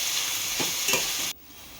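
Vegetables for hakka noodles stirred in a pan over a high flame, a bright steady sizzle with two quick scraping strokes of the stirring utensil, then the frying sound drops away abruptly near the end.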